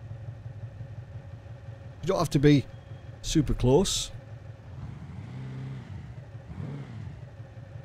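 A car in the video game BeamNG.Drive idles with a steady low engine hum while a person talks over it, the tone lifting slightly in places as the car eases into position.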